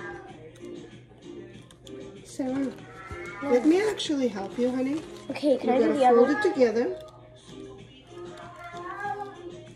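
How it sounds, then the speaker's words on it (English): A pet cat gives a series of drawn-out, wavering meows indoors, close by and mixed in with adult and child speech during a craft session with scissors. "Yes, that's our cat. He talks."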